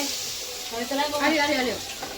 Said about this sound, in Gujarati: વઘાર થાય છે